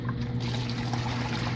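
Water from a hose pours steadily into a worm box, a continuous hissing, gurgling stream with a low hum underneath and no talk.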